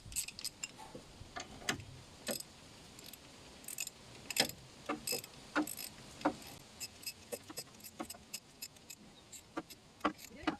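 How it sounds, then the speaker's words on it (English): A 1/2 inch ratchet tightening a track rod end, producing rapid, uneven metallic ticking and clicking in short bursts, close but fairly quiet, with no talk. "I'll ratchet like this."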